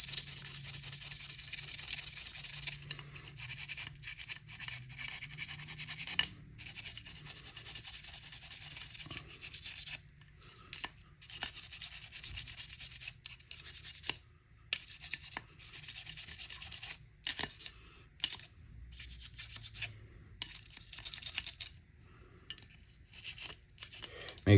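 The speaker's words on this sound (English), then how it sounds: "take your brush and just scrub the shit out of the top as best as possible" A brush scrubs back and forth over the top of a Glock 43X pistol slide, with close, dry rasping strokes in uneven bursts and short pauses between them.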